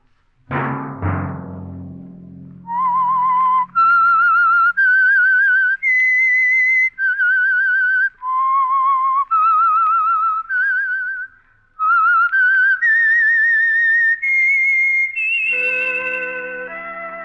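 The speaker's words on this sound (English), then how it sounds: "Let that whistle be your signal for the Signal Oil program, The Whistler" Whistled signature theme of the radio mystery program The Whistler: a lone, clear whistled melody of sustained, wavering notes with short breaks, preceded by a couple of brief sharp attacks and ending on a held tone.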